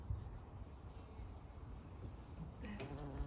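Big bees gather pollen among garden tulips, their steady, low buzzing drone continuing close by with no voices, rising slightly near the end as one passes nearby.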